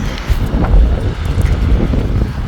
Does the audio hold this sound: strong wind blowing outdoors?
yes